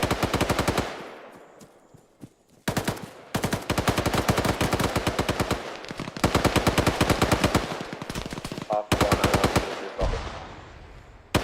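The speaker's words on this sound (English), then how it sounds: "Gunfire through the white smoke." Rapid machine-gun fire in the military shooter game Arma, sustained bursts of rattling automatic shots broken by short pauses, loud and close, with no talking.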